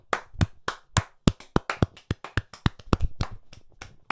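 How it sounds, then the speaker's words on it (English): A couple of people clap in a small podcast room, producing sharp, uneven hand claps that come fast and close by with no one speaking. "Let's applaud JB from JLS."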